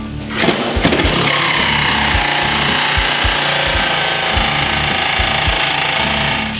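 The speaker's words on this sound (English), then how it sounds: "now he's going to take the Milwaukee Sawzall and show you how easy it is to cut this safe open" A Milwaukee Sawzall reciprocating saw cuts through a steel safe, producing a loud, steady, harsh grinding roar with rapid low pulsing strokes after two sharp knocks at the start.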